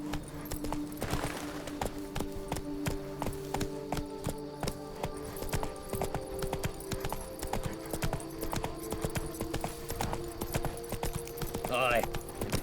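Roach, a horse in The Witcher 3 game, gallops in a steady rapid clip-clop of hooves close by, the rhythm running unbroken while someone speaks briefly and a short whinny-like sound rises near the end.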